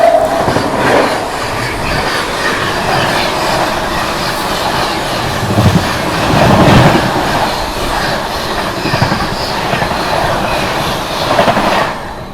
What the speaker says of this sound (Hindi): तो अभी क्रॉसिंग दिखाते हैं स्वतंत्रता सेनानी के साथ।